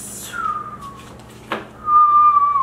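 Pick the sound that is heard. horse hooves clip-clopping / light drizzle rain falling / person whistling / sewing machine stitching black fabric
person whistling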